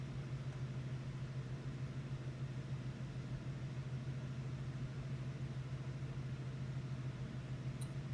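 A Subaru EJ20 engine on a Link G4x ECU settles into a steady, low, even idle, a constant close rumble with no talk over it.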